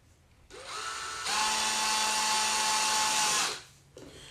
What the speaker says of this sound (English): I'm going to use a 3/16 drill bit to pilot these